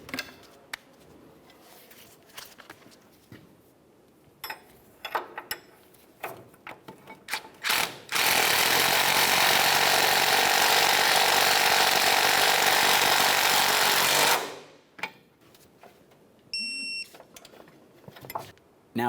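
Ratchet wrench snugging the nut on a sway bar link of a 2004-2015 Nissan Titan front suspension, a steady loud whirring burst of several seconds between quieter clicks and handling noises in a garage.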